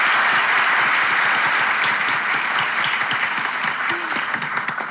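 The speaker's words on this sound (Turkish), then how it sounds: "Koca alkış!" Studio audience applause on a Turkish talk show, a loud, dense burst of many hands clapping that continues steadily and fades slightly toward the end.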